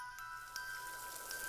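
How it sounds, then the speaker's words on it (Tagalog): Rain patters steadily in a quiet rural spot in Mindoro, with a few soft drops landing close by over a constant hiss and faint tonal hum. "Ilang araw nang umuulan, may bagyo kaya?"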